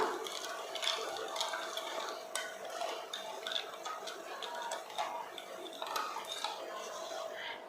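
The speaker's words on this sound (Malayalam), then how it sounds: "നന്നായിട്ടൊന്ന് മിക്സ് ചെയ്ത് കൊടുക്കണം." A spoon stirs a dry yeast mixture in a bowl, a close, continuous run of light ticking and scraping taps in a quick, busy rhythm.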